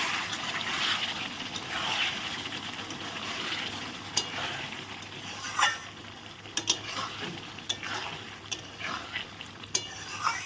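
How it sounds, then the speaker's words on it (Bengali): Chicken curry sizzles steadily in a pan while being stirred, with a continuous frying hiss and scattered scraping clicks of the spoon against metal, close and moderately loud, no talking. "এখন আমি ভালো করে নেড়ে দেবো"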